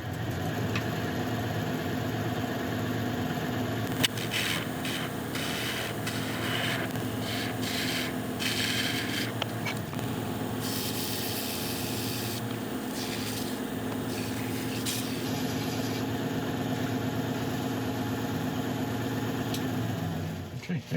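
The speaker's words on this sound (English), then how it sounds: "I'm just going to quickly clean off this edge very carefully with a ball gouge" A wood lathe spins steadily while a ball gouge cleans up the edge of a turned piece. A continuous motor drone carries scraping cutting sounds in the middle, and a voice speaks over it.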